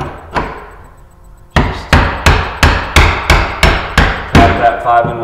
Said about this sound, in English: Then you want to take your 5-in-1 and your hammer.